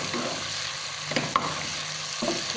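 Ground beef frying in a pan with oyster sauce, a steady sizzle running throughout while a utensil scrapes and stirs it a few times, close and fairly loud.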